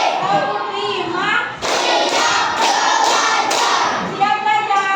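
A class of children clapping in unison on a teacher's cue, five sharp group claps in an even rhythm, with children's voices chanting around them.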